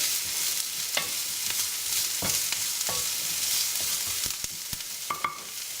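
Garlic and vegetables for Italian-style stuffed bell peppers frying in a pan, with a dense, loud sizzle and irregular clicks and scrapes of stirring throughout.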